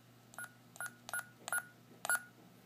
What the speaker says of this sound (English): the unit makes a sound when it starts up